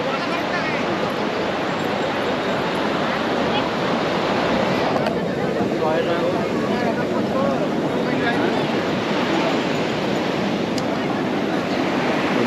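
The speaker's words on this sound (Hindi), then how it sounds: "ये पूरा देखिए समुद्र का क्या वेव है यहाँ पे" Steady roar of sea surf washing onto a beach at Puri, Odisha, loud and continuous, with wind buffeting the microphone throughout.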